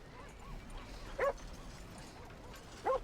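Dogs in the Red Dead Redemption 2 video game give two short, sharp yips roughly a second and a half apart, standing out clearly above a steady background ambience of the game world.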